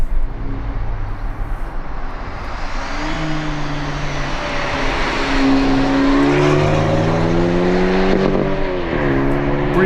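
A Maserati Grecale Modena's 2-liter engine accelerates hard and close, its loud rising tone climbing through gears with a brief dip at a shift near the end.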